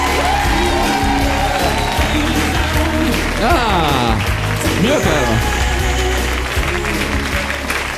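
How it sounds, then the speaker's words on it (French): Conference audience applauds and cheers a participant walking up, strong sustained clapping with upbeat music and a speaker talking over it. "Marianne, on l'applaudit, vas-y, marche, vas-y. On l'applaudit."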